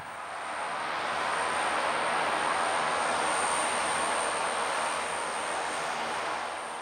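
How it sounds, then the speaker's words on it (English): Broad engine roar of a light aeroplane landing on a dirt airstrip, swelling in and holding steady, close and loud, then easing slightly at the end. "The runway is just about long enough to accommodate a light aeroplane"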